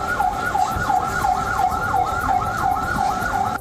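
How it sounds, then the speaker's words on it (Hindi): An ambulance siren wails in a continuous rapid two-tone cycle amid the destruction of Gaza City during the Israel–Hamas war, loud and fairly near over a rumble of road traffic, with no talking. "एम्बुलेंस की सायरन की आवाज"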